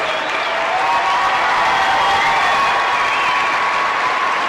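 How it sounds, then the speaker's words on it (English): Steady, loud applause from a large audience at a graduation ceremony, sustained throughout with faint cheering mixed in. "Let's give them a round of applause for their hard work."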